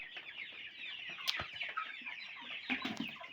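Cobb 500 broiler chickens feed in a shed, their soft overlapping clucks and chirps murmuring continuously at moderate distance, with a couple of sharper louder calls standing out.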